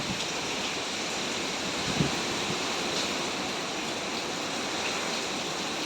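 Hurricane Milton's winds, reported at 120 miles an hour, drive heavy rain outside in a steady, dense roar that stays even and unbroken throughout, with no voices.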